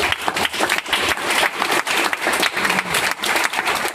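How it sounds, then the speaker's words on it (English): Audience applause at a food and tech startup meetup as a speaker walks up, dense steady clapping from a crowd filling the room for several seconds, fairly loud and close. "just give him a round of applause"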